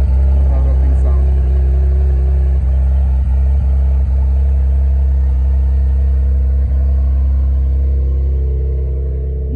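A Porsche 911 Carrera GTS engine runs close by, a loud, steady low rumble with a slight rise in pitch late on, and a few faint clicks over it.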